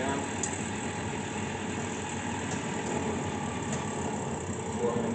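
A Hardinge DV-59 super precision second-operation lathe runs at high speed, around 2,600 RPM, giving a steady, even machine whir with no breaks.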